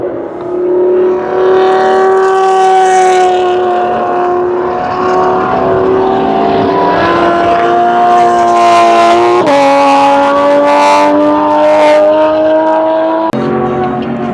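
Race cars at a time attack track event roar past, loud and close, with engines climbing and dropping in pitch through gear changes and a few sharp shifts, and no talking.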